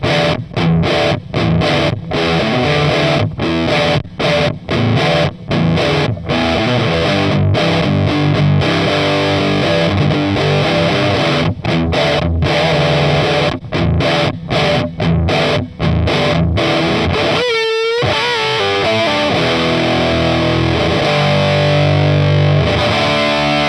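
Distorted electric guitar played through a $45 mini amp, loud and continuous with heavy gain and bright high end, chugging palm-muted riffs with a brief pause and a swept effect near the end, no voices.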